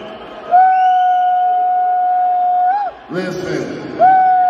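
A live audience boos Elon Musk at a Dave Chappelle comedy show: a loud, drawn-out crowd boo holds for a couple of seconds, breaks into a short burst of rowdy noise, then the booing swells again.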